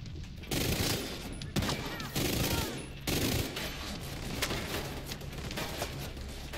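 Bursts of automatic gunfire from other players in The Division 2 PvP conflict, rapid fusillades in several distinct volleys separated by short pauses, loud and close, with a faint voice underneath.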